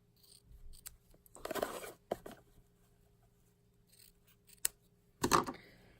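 Quiet, close snips of scissors cutting in a few short bursts, with soft handling noises and pauses between cuts.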